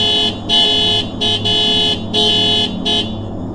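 A loud motorcycle horn honks repeatedly in uneven bursts, some short and some long, over a low steady engine rumble.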